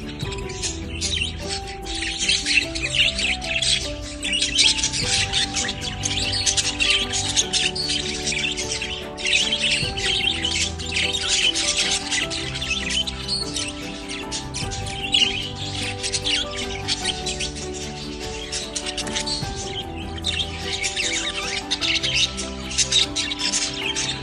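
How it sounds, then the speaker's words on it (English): A blackwing English show budgie chirping continuously, a dense, lively stream of close warbles, tweets and squawks that barely pauses, with no talk over it. "Sinta, he is a robust, upgraded blackwing English show budgie that has a strong attachment to humans"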